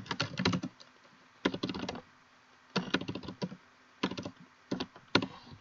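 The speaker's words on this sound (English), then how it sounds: "And then I want to type in call us today." Computer keyboard typing in several quick bursts of keystrokes separated by short pauses, close and clear with no talking.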